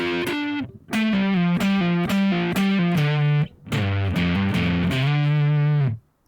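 Distorted electric guitar playing the lead lick from the Dani California solo, a phrase of quick hammered-on and picked notes, then a pause and a second run ending in a long sustained note, loud and alone.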